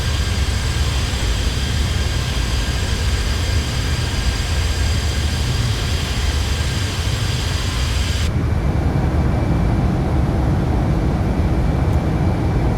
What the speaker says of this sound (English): Love the sound of those engines.